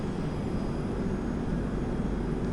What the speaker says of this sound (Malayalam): ഫ്ലൈറ്റ് ഇപ്പോൾ ജസ്റ്റ് ഇറങ്ങിപ്പോയി